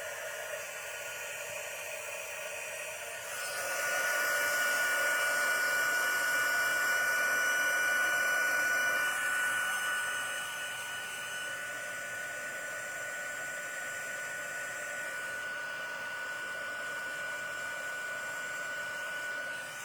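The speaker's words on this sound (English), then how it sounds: "Let's go ahead and heat emboss that" A small handheld heat embossing tool blows hot air over a wet embossed card front, a steady close whooshing roar that swells loudly for several seconds and then settles to a softer continuous hiss, with no talking.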